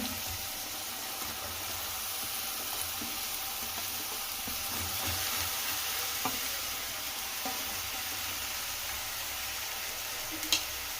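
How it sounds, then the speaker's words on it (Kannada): Raw banana pieces sizzle steadily in a hot pan, a soft continuous frying hiss close by, with faint scraping and stirring clinks now and then and one brief sharper knock near the end. "ಬಾಳೆಕಾಯಿ ತಗೊಂಡಿದ್ನೆಲ್ಲ ಕಟ್ ಮಾಡಿ ಅದನ್ನ ಹಾಕೊಳ್ತೀನಿ"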